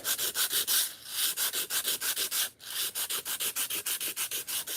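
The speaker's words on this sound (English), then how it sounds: "you just want to sand down the track. All it is plastic." Sandpaper rubbed back and forth over a plastic track, a steady run of close, rhythmic scratchy strokes with a brief pause midway, no voices.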